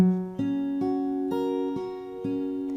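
Fingerpicked acoustic guitar chord, the bass note plucked by the thumb and then higher strings in a steady repeating pattern, close and clear.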